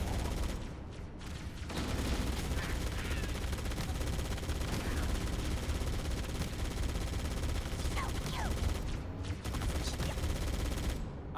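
Sustained gunfire in the video game Halo Campaign Evolved, a dense, continuous rattle of automatic weapons and battle noise lasting many seconds, loud throughout with brief lulls near the start and end.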